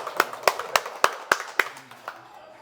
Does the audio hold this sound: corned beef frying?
no